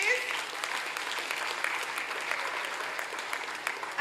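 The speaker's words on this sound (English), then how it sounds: "Shall we give them a round of applause, please?" Audience at a primary school graduation ceremony applauds the graduating Grade 6 class, steady moderately loud clapping from a large room that carries evenly throughout.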